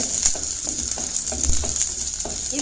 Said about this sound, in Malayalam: ചെറിയ ഉള്ളി അത് ഞാനൊന്ന് നടുകെ കീറിയിട്ട് ആ എണ്ണയിലോട്ട് ഇട്ട് കൊടുത്തിട്ടുണ്ട്